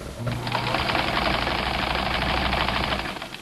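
A sewing machine runs steadily at close range while stitching a t-shirt neckband. Its motor hums and a fast mechanical rattle continues without a break for a few seconds, and nobody talks.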